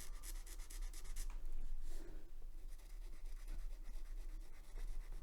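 Pen nib on paper testing Zenpop stationery: soft, close scratching and rubbing strokes in an uneven rhythm, with a louder sweeping stroke midway, quiet and without speech.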